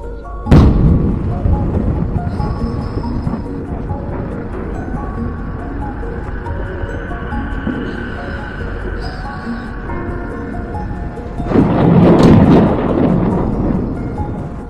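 Deep rumbling booms from air strikes in Lebanon roll through the clip, with a sharp blast near the start and another heavy, louder burst toward the end, over constant low noise.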